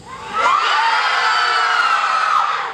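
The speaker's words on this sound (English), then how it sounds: "So I'm going to count to 3, and you're going to practice your scream." A group of children scream together on cue, a loud, sustained, high-pitched burst of shrieking voices that starts abruptly and holds for over two seconds before tailing off.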